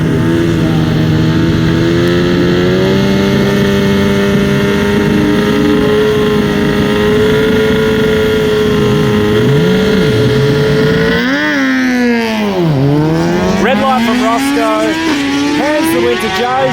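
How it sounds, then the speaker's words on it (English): Streetbike drag racing motorcycle at a drag strip, its engine droning steadily and loud, then revving up and down in uneven surges near the end that suggest wheel spin or a clutch problem, with a voice talking over it. "Who sounds like he might be having some wheel spin issue there, or clutch issue on the track perhaps"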